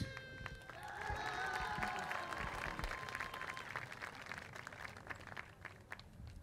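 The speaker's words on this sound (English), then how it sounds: "I'd like to introduce a nice round of applause for Ms. Canales" A school pep rally crowd applauds steadily with some cheering, a busy mix of clapping and voices with tonal sounds from the gym in the first half.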